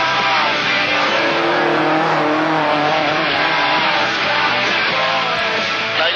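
Ford Escort rally car on the 1972 Daily Mirror RAC Rally sliding sideways, loud continuous engine roar with gravelly tire and skid noise, close and unbroken.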